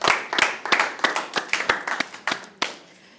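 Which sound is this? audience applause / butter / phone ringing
audience applause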